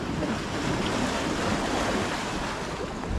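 Winter sea off the Turkish coast heard from a small fishing boat: a steady, loud wash of waves and surf with wind buffeting the microphone, continuous and unbroken, with no voices.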